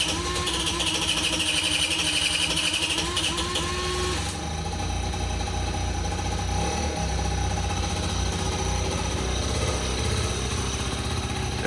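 A Buddy 50 moped engine cranks on the electric starter, catches, and settles into a steady, close, buzzing idle that runs on continuously with no talk.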